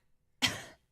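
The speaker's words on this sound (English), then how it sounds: "Cough in my direction." A single short, close cough bursts out once in an otherwise quiet room.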